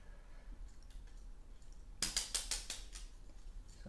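A Lego Bastion figure from Overwatch is handled as its legs are bent down and kneecaps folded out, producing a quick burst of close, crisp plastic clicks after a faint, quiet stretch, with no voices.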